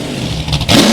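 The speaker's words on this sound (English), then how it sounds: "Give it some good revs to be on." A 1973 Pontiac Firebird engine revs up twice in the snow, the second burst louder and longer, a rising mechanical roar close by.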